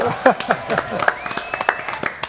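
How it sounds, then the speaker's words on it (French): A studio audience on a French TV show applauds for a singer named Lina, quick scattered claps that sound close, with a voice speaking over them. "applaudissements pour Lina"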